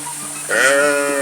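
A sheep in a sheep pen in a Sundanese village gives one loud, close, wavering bleat that starts abruptly and holds for under a second over a steady low background hum.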